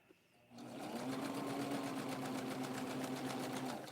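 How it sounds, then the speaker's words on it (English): A sewing machine runs a fast, steady crisscross stitch along raw cut edges of 100% cotton fabric, a close, even mechanical whir with rapid rhythmic ticking that starts after a brief pause and continues without talk. "what I'm doing is a crisscross stitch on these raw cut edges to prevent the fabric from raveling"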